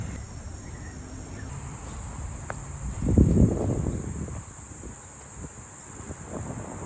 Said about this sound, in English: I love the sound of those bugs. Cicadas, maybe, whatever they are.